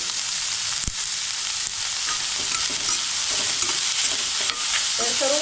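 Cabbage, capsicum and carrot sauté in a pan with a bright, continuous sizzle, broken by a sharp knock of the spatula early on and a few scattered scrapes and clinks as the vegetables are stirred.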